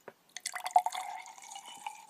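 Water drips and trickles into a container of marker colouring, a short run of light splashy drips that settles into a soft continuous trickle, close and fairly quiet.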